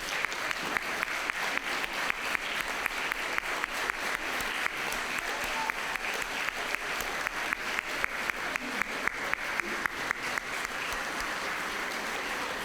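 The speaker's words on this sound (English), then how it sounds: "just give them a big round of applause to signify our gratitude" A graduation ceremony audience applauds steadily and loudly for over twelve seconds, with dense continuous clapping and sharp rhythmic accents repeating throughout.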